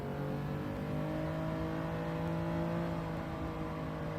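A road car engine in Gran Turismo 7 revs hard and steadily, with a continuous loud droning whine that rises slightly, close up with no talking.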